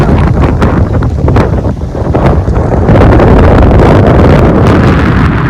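Strong, storm-like wind on a hilltop in rainy weather batters the microphone with a loud, continuous roar that gusts harder in the second half.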